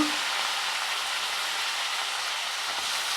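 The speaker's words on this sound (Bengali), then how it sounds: "দেখুন এই তেলের মধ্যে এখন আমি এই মশলাগুলো একে একে সব দিয়ে দেবো দিয়ে ভালো করে কষিয়ে নেব" Spices and masala frying in hot oil for a slow-cooked kosha goat-meat curry give a dense, steady, close-up sizzling hiss that runs unbroken throughout, with no talking.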